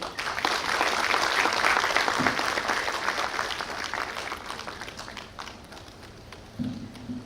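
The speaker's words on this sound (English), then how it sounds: "can we give a round of applause for the chairperson of Intersect Consortium?" Conference audience applause for a consortium chairperson, a full burst of clapping that gradually thins and fades, with a brief voice near the end.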